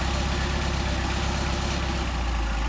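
A Mercedes 190SL engine on Solex carburetors idles close by with a steady, even low rumble throughout, alone and without talk.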